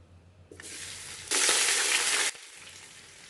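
Thinly sliced onions dropped into hot oil for chicken biryani, a sudden loud sizzle that swells into a roaring hiss for about a second and then cuts off abruptly, with no talk.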